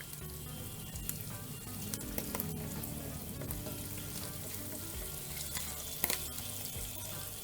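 Chicken pieces fry in a covered pan for chicken dinuguan, giving a steady, moderately quiet sizzle with soft low rumbling throughout and a few faint clinks, with no voices.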